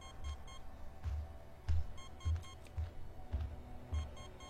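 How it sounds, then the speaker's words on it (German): A regular electronic beeping pulses from a device in the video game Alien Isolation, about two beeps per second, with short low thumps under each one in a steady repeating pattern, and no talking over it. "Was piepst denn das so?"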